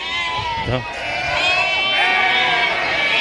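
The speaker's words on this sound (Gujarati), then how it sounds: "ઘેટા બકરા વહેલા હારે આવી ગયા છે" Sheep and goats bleat in a village farmyard, a couple of clear, wavering calls close by, with a person talking over them.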